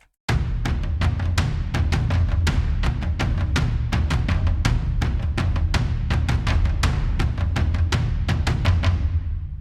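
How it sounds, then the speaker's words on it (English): Armageddon cinematic percussion ensemble playing alone: a steady barrage of loud, booming low drum hits with sharp accented strikes landing in a driving rhythm, sustained at full volume for the whole passage. "let's solo this so you can hear the Armageddon ensemble alone"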